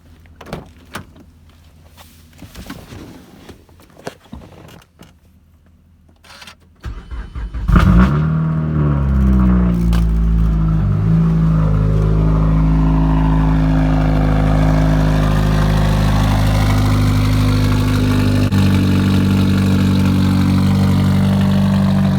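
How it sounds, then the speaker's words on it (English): A big-turbo Mazdaspeed 3 in cold Buffalo weather clicks and clunks quietly before the engine cranks and fires loudly at about eight seconds, then settles into a rough, steady, loud idle that wavers slightly in pitch. "I also wanted to give you guys a quick cold start"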